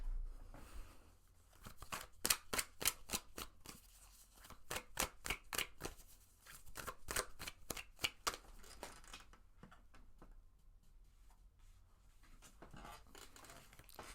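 Cards being shuffled for a love tarot reading: quiet riffling bursts come in quick repeated runs with short pauses between them, close and soft, then fade to near silence.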